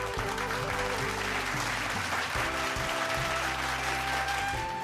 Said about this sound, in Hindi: तालियां एक बार